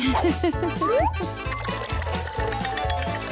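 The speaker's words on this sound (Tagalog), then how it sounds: "Napuno na ang pool." Water pours and gurgles steadily as it fills a toy pool, over a repeating rhythmic background, with a voice speaking briefly near the start.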